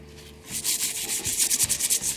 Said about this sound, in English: All right, just keep scrubbing it round.